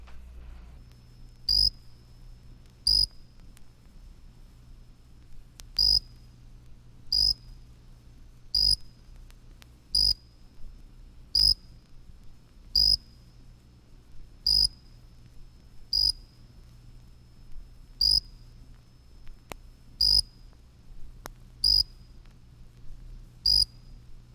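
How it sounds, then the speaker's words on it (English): Jumping bush cricket, Orocorus saltator, singing a clear, piping chirp, repeated as short, evenly spaced pulses every second or two over quiet night background. "The jumping bush cricket, Orocorus saltator, is a late singer, beginning in mid-August. Its song is a clear, piping chirp."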